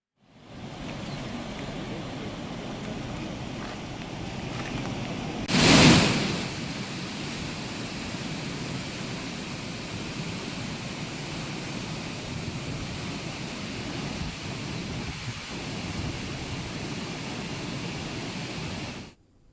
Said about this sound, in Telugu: కర్ణాటక జలాశయం నుంచి భారీగా వరద నీరు వస్తూ ఉండటంతో ప్రాజెక్టు నలభై ఎనిమిది గేట్లు ఎత్తి నీటిని విడుదల చేశారు